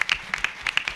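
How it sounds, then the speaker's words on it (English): Applause from a networking event audience for a panel, a short stretch of individual hand claps, fairly close and moderately loud, in a quick irregular rhythm. "Can we give everybody on the panel a round of applause?"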